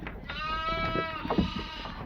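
A single loud, close sheep bleat, wavering and drawn out for about a second, followed by faint rustling.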